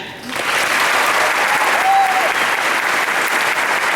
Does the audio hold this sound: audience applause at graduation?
yes